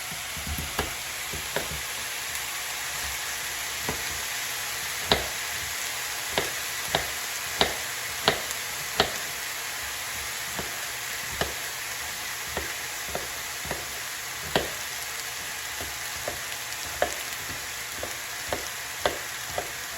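Continuous hissing sizzle of potatoes frying in a pan, punctuated by irregular clicks and scrapes of stirring, close and steady.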